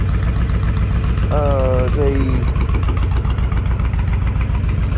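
A Honda VTX 1300 motorcycle with an aftermarket exhaust idles loud and close in a steady, lumpy throb, as someone speaks briefly over it.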